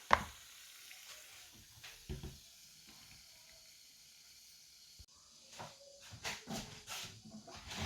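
A single drop of mung bean paniyaram batter, Sri Lankan style, sizzles faintly in hot frying oil, giving soft hissing bursts that pick up and crackle more in the later seconds.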